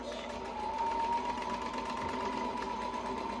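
A Ricoma embroidery machine sews a back stitch on a stocking, a steady rapid mechanical whirring hum with a fast repeating stitch pulse, close and continuous throughout.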